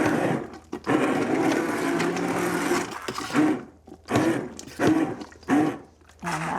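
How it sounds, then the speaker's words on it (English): An immersion blender whirs through cooked apples in several bursts of varying length, starting and stopping with short pauses between, loud and close. "I'm just using my immersion blender here to blend this up just a little."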